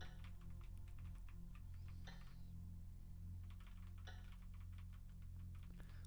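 Quick mouse clicks land in loose, irregular bursts as a player clicks on banquet chairs in a ballroom scene of a puzzle game, sharp and close over a steady low hum, with short pauses between runs.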